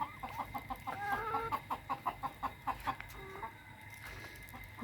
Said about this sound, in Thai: นี่ไก่แม่ไข่